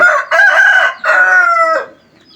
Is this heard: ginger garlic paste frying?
no